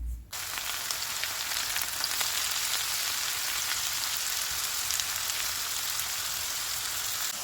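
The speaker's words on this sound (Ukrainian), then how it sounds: "Обсмажую овочі на рослинній олії до м'якості." Steady, dense sizzling of vegetables frying in hot oil, loud and continuous throughout with no voices.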